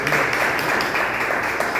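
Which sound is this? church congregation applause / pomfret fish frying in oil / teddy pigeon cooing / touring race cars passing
church congregation applause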